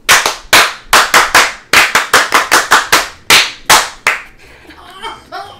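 Rhythmic sports-style applause: a quick run of about fourteen crisp, close hand claps in a chant-like beat, trailing off into softer scattered sounds at the end.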